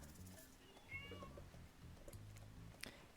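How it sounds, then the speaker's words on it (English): A pet cat yowls loudly several times in short, screaming meows, close to the microphone, over steady background game music. "my cat is here trying to interrupt the stream by screaming"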